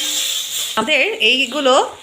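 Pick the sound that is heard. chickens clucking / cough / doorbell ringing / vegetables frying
vegetables frying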